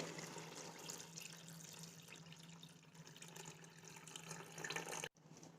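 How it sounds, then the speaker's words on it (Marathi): Water from boiling tamarind and peanuts pours steadily into a cooking pot, a continuous close splashing stream with a low hum underneath, cutting off abruptly near the end. "आपण चिंच आणि शेंगदाणे उकडायला ठेवलेलं जे पाणी होतं ते पाणी अगोदर यामध्ये टाकायचं आहे"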